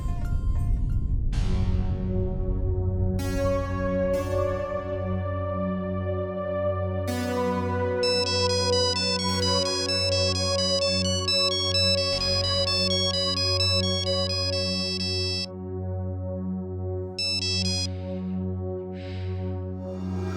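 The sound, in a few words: phone ringing tone of outgoing call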